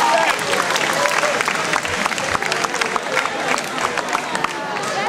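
Applause from a school audience at a comedy impressions show, dense and loud continuous clapping mixed with some crowd noise and voices throughout.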